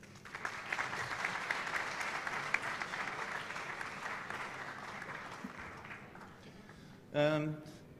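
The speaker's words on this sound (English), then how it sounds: "I would request the audience to welcome Dr. Sanders with a big round of applause." An audience at a conference ceremony applauds steadily for several seconds, the clapping fading out before a voice begins speaking at the end.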